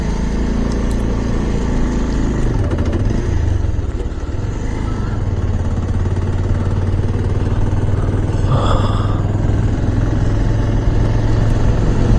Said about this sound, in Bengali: আমাদের চারটে বাইক যাচ্ছে